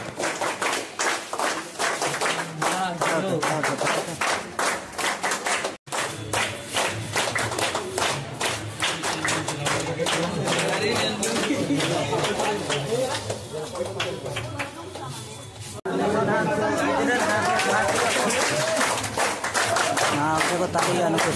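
An audience at a college welcome celebration at Gorumahisani Iron College claps in a dense, steady patter that runs on for a long stretch, briefly dropping out and then swelling again, with voices talking underneath.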